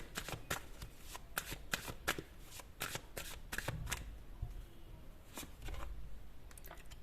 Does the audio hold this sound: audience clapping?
no